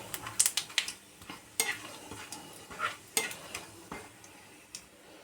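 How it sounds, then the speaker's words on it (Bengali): Dried chilli, cumin, bay leaf, cardamom and cloves tempering in hot oil over low heat, with close, sharp crackles and small pops coming in irregular bursts over a light sizzle. "শুকনো লঙ্কা, জিরে, তেজপাতা আর এলাচ লবঙ্গটা ফোড়নে দিলাম।"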